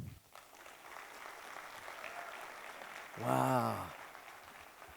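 A comedy club audience breaks into brief, scattered hand clapping, soft and thin, before a man exclaims over it.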